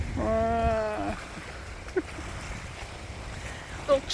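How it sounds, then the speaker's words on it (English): Steady wind rushes and buffets outdoors by the cliffs of Lake Marion at Santee State Park, low and continuous, with a brief voice at the start and a couple of faint thumps. "Very windy today."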